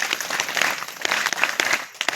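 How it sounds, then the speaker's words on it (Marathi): An audience claps for a women's self-help group at a village general meeting of a women's ward federation in Ghaygaon, a dense patter of many hands sustained for a couple of seconds with no talk over it. "तर या समूहासाठी आपण टाळ्या वाजवू"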